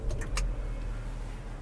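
A Jeep Renegade Longitude 2025 is started with its flip key: a few quick key clicks and a short crank, then the engine settles into a steady, moderately quiet idle hum close by.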